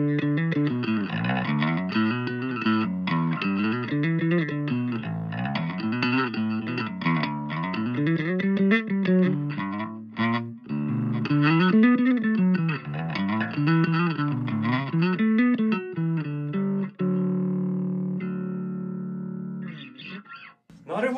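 A bass guitar runs through a BOSS Bass Driver BB-1X preamp pedal with its controls set flat, playing a melodic line of sliding, slightly driven notes that ends on a sustained chord and a held low note.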